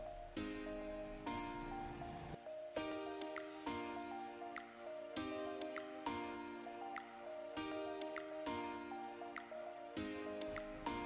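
Dal and rice for pongal are rinsed together in a pot of water, giving quiet, close sloshing, squishing and repeated drips in an uneven rhythm.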